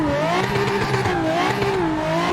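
In a drifting video game, a drift car's clutch kick sends the engine into a loud, sustained rev whose pitch wavers up and down, with tire noise underneath and no voices.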